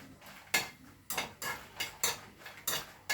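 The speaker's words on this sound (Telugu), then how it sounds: "చూడండి మిరపకాయలు వేయించేసుకోవడం" Dried red chillies being roasted and stirred in a pan over low heat, a series of regular metallic scraping strokes, about six, close and fairly quiet.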